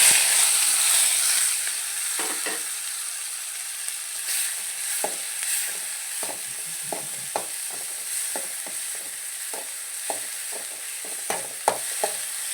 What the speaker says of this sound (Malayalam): വറ്റൽമുളക് ഇട്ട് കൊടുത്തു കരിവേപ്പിൻ്റെ ഇട്ട് ഇനി വലിയ സവാള ചതച്ച് വെച്ച സവാള